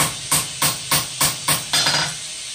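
Six sharp metallic hammer blows on a nail set in a nail header at a forge, at a steady rhythm, close and loud, each ringing briefly before the next strike.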